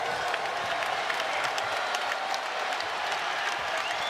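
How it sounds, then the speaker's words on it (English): Basketball arena crowd at a Morehead State vs. Louisville game roaring and applauding after a freshman's first career basket, a dense sustained wall of cheers and clapping throughout. "And this crowd is going crazy."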